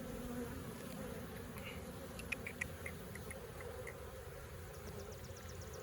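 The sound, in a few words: honey bees buzzing in an open hive during inspection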